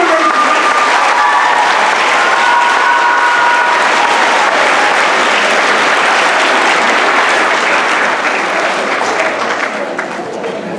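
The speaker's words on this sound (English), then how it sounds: "let's give our student musicians a round of applause" An audience at a school winter concert claps for student musicians, a loud, sustained round of applause from a crowd that fades slightly toward the end, with a few voices mixed in.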